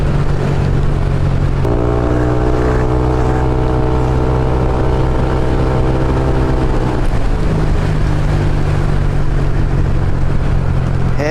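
Loud motorcycle engine held at steady revs while riding slowly through floodwater on a road during a typhoon, a constant droning hum that shifts pitch midway, with no talk over it.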